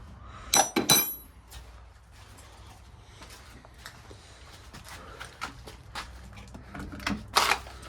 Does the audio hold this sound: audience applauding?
no